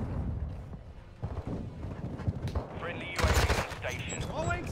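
Gunfire in the Call of Duty video game, a shotgun match, comes as dense rapid bursts and booms, with a loud volley in the last second or so and muffled voices under the shots.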